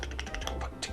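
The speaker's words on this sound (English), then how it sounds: "and you hear me typing" Brief, fast typing on a computer keyboard, a quick run of soft close clicks over low background noise.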